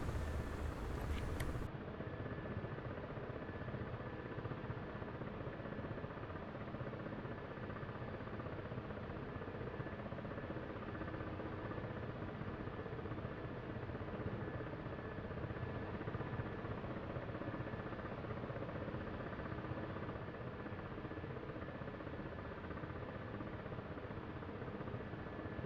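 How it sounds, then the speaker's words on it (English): The engines of an AH-64 Apache helicopter in a flight-simulation game spool up as the throttle increases, giving a continuous, dense turbine drone that holds steady and fairly loud, with no speech. "let's give some throttle to give the generators what they need"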